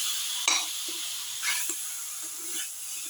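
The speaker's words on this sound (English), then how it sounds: "mixing the mutton ribs with the rest of the mixture" Lamb ribs stirred in a hot sizzling pan with spicy cumin mixture, a steady frying hiss with a few scraping clacks of a spatula at intervals, close and moderately quiet.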